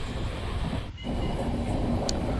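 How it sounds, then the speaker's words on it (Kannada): Karnataka Express train running through a railway station at about 105 km/h, heard as a continuous loud rumbling roar of wheels and rushing air with a brief dip midway, no voices. "105ರಲ್ಲಿ ಚಕ್ಕರ್ಲಾಪಲ್ಲಿ ರೈಲ್ವೆ ಸ್ಟೇಷನ್ನ ಸ್ಕಿಪ್ ಹೊಡಿತಿದೆ."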